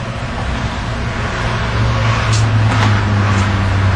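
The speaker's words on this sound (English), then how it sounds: "There's a bit of traffic at the moment." Steady road traffic rolls across a bridge, cars passing in a continuous broadband wash with a low engine drone that swells slightly toward the end; no voices.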